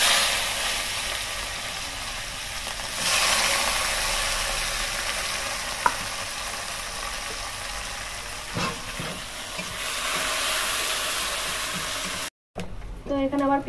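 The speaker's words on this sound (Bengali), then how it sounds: "এবার দিয়ে দিচ্ছি পেঁয়াজ কুচি।" Chopped onion frying in hot oil with bay leaf, dry red chilli, cardamom and cinnamon gives a loud, continuous sizzle and hiss close by, swelling briefly as the pan is stirred.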